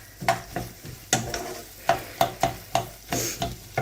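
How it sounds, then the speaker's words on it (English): Onions softening in a pan with a soft, steady sizzle, broken by about ten sharp scrapes and knocks of stirring at an uneven pace, close and fairly quiet. "all the onions are in the pan to soften"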